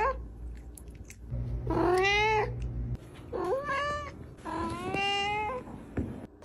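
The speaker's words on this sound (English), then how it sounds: "They're little meows." A cat gives three small meows, each rising then falling, close and clear with short pauses between them.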